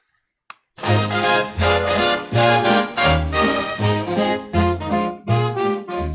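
A short, bright radio station jingle for Silver Moon Radio AM 1610 plays loudly, with a sung melody over punchy rhythmic accompaniment and brief pauses between phrases, after a single click.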